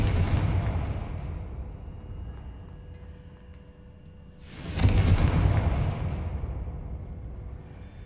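A Confringo fire spell explodes in Hogwarts Legacy, a deep rumbling boom that fades and then a second sharp, louder blast that slowly dies away, with no talking.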